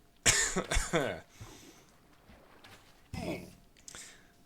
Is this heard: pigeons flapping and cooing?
no